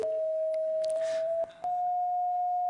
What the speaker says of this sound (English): this is the sound of grass